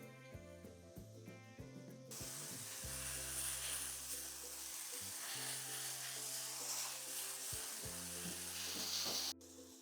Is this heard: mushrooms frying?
yes